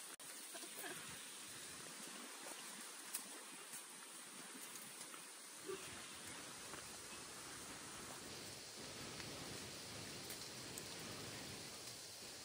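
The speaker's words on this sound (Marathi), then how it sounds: "तेवढ्यात पाऊस पण खूप जोरात इलो" Heavy rain pours down in rural Konkan farm country as a continuous, even hiss that fills the whole stretch without a break. No voices are heard.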